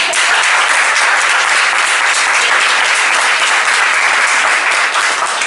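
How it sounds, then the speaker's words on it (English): At a closing event for FAU students with the City of Miami, a large audience applauds the students, loud, dense clapping that rolls on evenly for over five seconds with no speech. "a big round of applause for the students"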